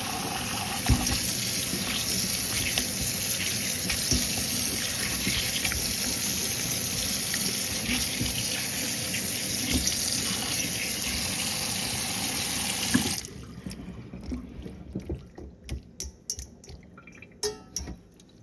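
Pigtail meat rinsed under a running cold tap, a steady hiss of flowing water that stops abruptly, leaving scattered drips and handling sounds.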